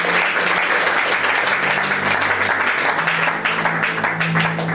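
A church congregation applauds with steady, dense clapping that fills the room and stays loud and even for several seconds.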